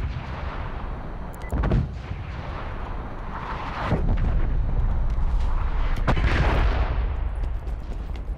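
An artillery strike in Call of Duty: Black Ops Cold War, with several heavy booming impacts spaced a couple of seconds apart, each with a crack followed by a low rolling rumble.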